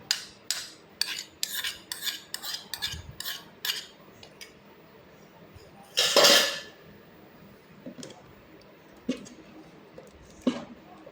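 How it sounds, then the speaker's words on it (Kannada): A seasoning tempering tipped into a pot of whole tender mango pickle and stirred, with a run of close metal clinks and scrapes of utensil against pot, then a brief splashing sizzle and a few scattered knocks. "ಹಿಂಗಿನ ಒಗ್ಗರಣೆ ಮಾಡಿದ್ದನ್ನು ಇದಕ್ಕೆ ಹಾಕ್ತೇನೆ."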